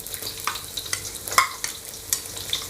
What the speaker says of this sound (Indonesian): Terlebih dulu saya tumis bawang merah yang diiris tipis tadi